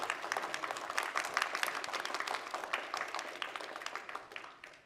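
Applause from a pageant audience for the Miss Asian Global staff: many hands clapping steadily for about five seconds, even and moderately distant, fading slightly at the end.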